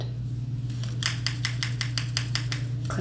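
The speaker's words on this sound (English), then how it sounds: "Clippers in my right." Close, crisp clipper snips repeat roughly eight times at an even pace in an ASMR cranial nerve hearing test, with a faint low hum underneath.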